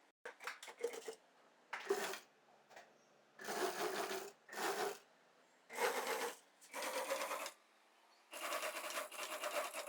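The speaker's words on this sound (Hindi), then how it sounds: "यहाँ से हम दाब स्टिच लगा देंगे।" Sewing machine running in repeated bursts of stitching while topstitching an Angrakha kurti, about eight short runs separated by pauses, close and clear with no talking.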